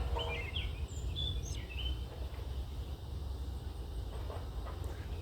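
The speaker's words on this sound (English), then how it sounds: "there are little chicks that are begging" Hairy woodpecker chicks begging from a nest near a path, high thin chirps in brief bursts over a low rumbling background, with other faint bird calls around.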